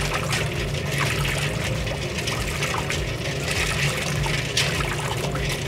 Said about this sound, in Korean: 바로 찬물에 헹굽니다.